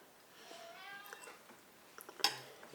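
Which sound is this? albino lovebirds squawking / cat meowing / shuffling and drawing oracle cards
cat meowing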